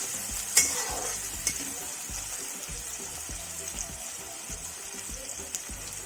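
Onions and green chilies sizzle in a pan for a spicy Maharashtrian village-style chicken curry, with steady frying hiss and the occasional scrape of a spoon stirring close by.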